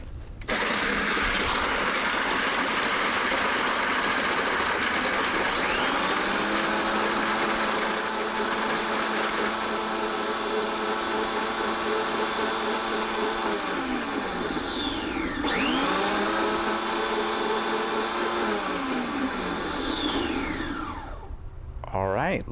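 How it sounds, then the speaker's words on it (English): A margarita machine motor whirs loudly and steadily, its pitch dropping and rising as it churns through ice, with a brief stop and restart partway through. "I busted out the Margarita machine"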